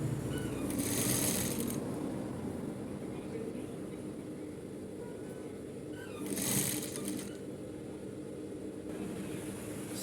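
A sewing machine runs steadily while stitching a seam on a suit coat collar, a low continuous mechanical whir with two brief brighter bursts of stitching, close by and without clear talk.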